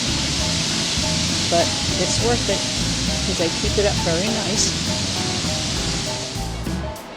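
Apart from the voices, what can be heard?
DeSoto Falls waterfall, DeSoto State Park, Alabama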